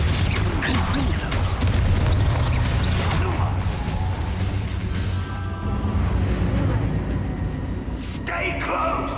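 Confringo fire-spell blasts in the Hogwarts Legacy video game: repeated booming explosions and crackling bursts in a dense, loud battle mix, with a voice calling out over the action.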